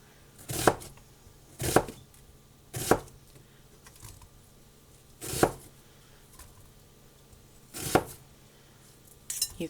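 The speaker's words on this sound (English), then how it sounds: "we're going to just slice it and add it to our bowl" A knife slices through an onion on a cutting board for pickles, six or so crisp, evenly spaced chops close by with quiet pauses between.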